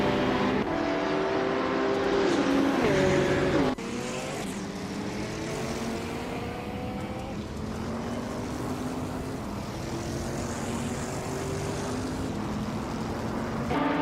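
Engine roar of a 2012 Aston Martin Vantage GTE and rival cars in a racing video game, a steady loud drone with rising and falling gear-shift pitch sweeps, running continuously without talk.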